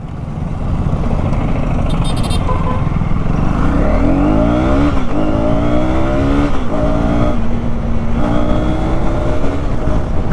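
A 2024 KTM Duke 250 single-cylinder motorcycle revs loudly and pulls away in first gear, its engine note climbing and falling in several close, continuous surges.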